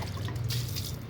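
Water is poured onto a summer plant on a hot day, giving a short, soft, close trickle and splash that stays steady for about a second, with no talk.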